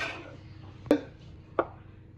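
A knife cutting tomatoes into thin julienne strips on a cutting board in a home kitchen: two distinct, sharp chops about a second apart, close and alone over quiet room tone.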